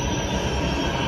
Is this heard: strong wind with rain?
no